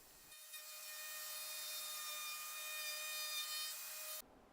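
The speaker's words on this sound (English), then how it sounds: "using a 30mm guide bushing with a 19mm cutting bit, I'm going to create the cutouts" A router fitted with a 30mm guide bushing and a 19mm cutting bit cuts cutouts into a clamped wooden lap steel guitar body, giving a steady, loud, high-pitched whine that holds for about four seconds and then stops abruptly.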